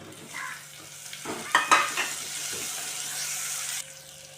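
Tomatoes and onions sizzle with curry leaves in a pan for a curry kuzhambu, with steady frying hiss, stirring scrapes and a few sharp utensil clinks against the pan.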